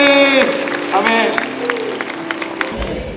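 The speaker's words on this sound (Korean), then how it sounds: "한번 박수 주시기 바랍니다" A congregation applauds during a Sunday church service, a spread of clapping that rises over a voice and music at the start and carries on through the clip.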